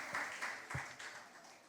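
Audience applause at a school impromptu speaking competition, steady clapping from a hall crowd filling the whole short stretch at moderate level.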